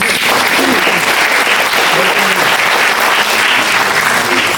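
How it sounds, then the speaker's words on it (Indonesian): Loud, dense applause from a theatre audience at a musical drama performance in Jakarta, steady and sustained throughout without pause. "Anda tepuk tangan dulu lah."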